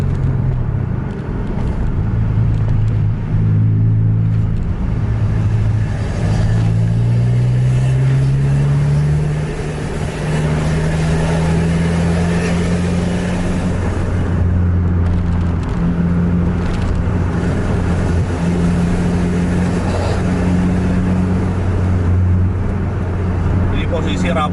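Buses run in a close convoy on an Indonesian road, including a Sempati Star Mercedes-Benz and a Scania 410, a loud continuous engine drone with shifting pitch as they accelerate, heard from inside a vehicle while someone talks throughout.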